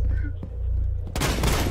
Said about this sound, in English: The very first shot was a headshot.